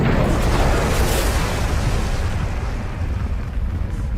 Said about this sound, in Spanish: de repente se produce una explosión demoledora a proa